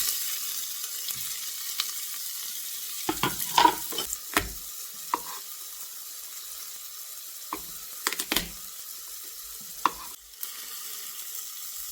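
Onion tips into a hot pan of oil for meatball soup and sizzles steadily, with a few sharp scrapes and clinks of stirring near the start and middle. No one speaks.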